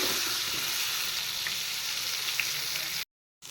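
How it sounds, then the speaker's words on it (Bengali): Sliced brinjal frying in oil with turmeric and salt, a steady, even sizzle close by with a few faint pops, then a sudden brief silence before the frying returns. "এবার বেগুনগুলো ভেজে নিচ্ছি হলুদ আর নুন দিয়ে দিয়েছি"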